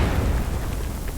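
An enemy frag grenade explodes in the shooter game Hired Ops, a loud, close, rumbling boom that fills the short moment and decays without any talk.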